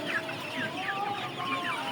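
Sonali chickens on a poultry farm cluck and chatter continuously, many birds calling at once, close by, with no other sounds.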